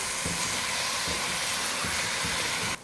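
Onion, ginger garlic paste and green chillies fry in a pan over a medium flame for chicken biryani, a dense constant sizzle with a few soft clinks, cutting off abruptly at the end.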